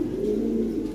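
Breeding pigeons of fancy breeds such as Sirazi and Lahore coo in a low, rolling murmur close by, a soft continuous throaty call with no talking over it.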